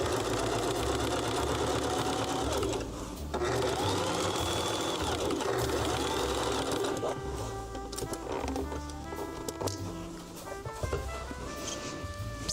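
A sewing machine runs continuously at close range, a steady mechanical whir with small shifts in pace, stitching throughout without a break.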